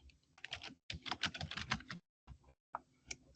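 Rapid, close typing on a computer keyboard while entering a document name for a Turnitin submission, a dense run of clicks broken by short pauses and a few final keystrokes.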